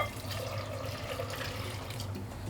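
Water poured over rinsed toasted groundnuts in a bowl to soak them for kunun gyada porridge, a steady close splashing and trickling stream running for the whole stretch with no talk.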